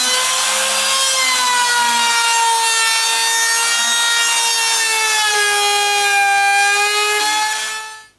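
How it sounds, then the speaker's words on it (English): A hand-held power router cuts a wooden part in a workshop, a loud, close, sustained high whine with a slowly sliding pitch that runs for about eight seconds before quickly winding down. "So we're going to go ahead now and route that"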